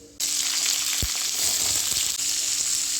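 Mustard seeds, urad dal and cumin frying in hot coconut oil, a steady close sizzle that starts abruptly and continues evenly with faint crackles and a brief stir, no talking.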